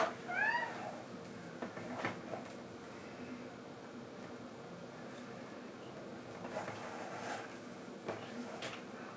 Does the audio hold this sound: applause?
no